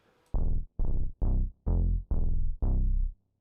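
Native Instruments Duets bass preset from the 7th Wonder set plays six short, punchy low notes in an even rhythm, each decaying quickly, close and alone.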